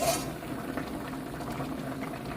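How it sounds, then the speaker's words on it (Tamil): Chicken curry bubbles in a pot with a soft, continuous simmering burble, fairly quiet and close, with no voices. "நல்லா கொதிச்சு கொண்டிருக்கு"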